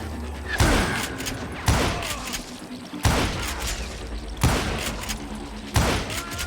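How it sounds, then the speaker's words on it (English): Gunfire in the Western shooter Call of Juarez Gunslinger: five loud, evenly spaced shots about a second apart, each cracking sharply and trailing into a rumbling echo, with no voices. "But I just kept shooting at anything I could see up in those damn rocks"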